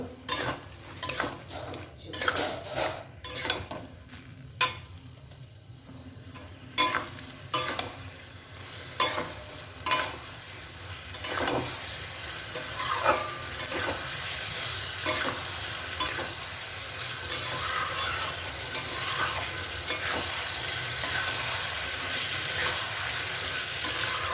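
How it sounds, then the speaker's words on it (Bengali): Chilli paneer with fried onions stir-fried in a pan: a run of sharp utensil scrapes and knocks against the pan in the first half, then a steadier close sizzle carrying on to the end, with no talking. "পেঁয়াজ ভেজে রাখা পনিরগুলো দিয়ে দেবো এতে"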